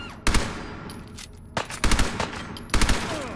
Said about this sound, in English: So does my 45 submachine gun.